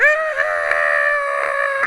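A person vocally imitates a scream from the point-and-click game Riddle School, a sustained high, strained, wavering cry close to the microphone lasting nearly two seconds without a break.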